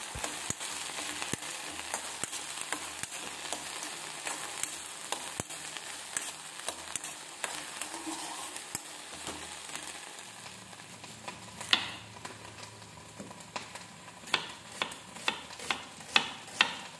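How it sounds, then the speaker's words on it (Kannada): Chopped carrot and a couple of cashews sizzle and fry in a pan, a steady crackle with occasional clicks of stirring that grow sharper toward the end. "ಅದನ್ನು ಕೂಡ ಈಗ ಹೆಚ್ಚಿ ಅದಕ್ಕೆ ಒಂದೆರಡು ಗೋಡಂಬಿ ಹಾಕಿ ಬೇಯೋದಕ್ಕೆ ಹಾಕ್ತೀನಿ"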